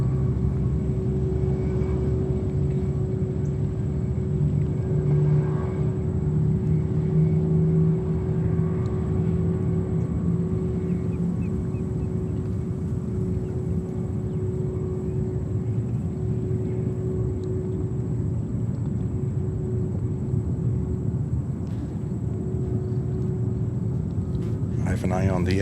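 Airbus A350-900 from Rome at JFK Airport in New York, a steady, even jet rumble with a held engine tone lasting throughout, loud and continuous with no clear rise or fade.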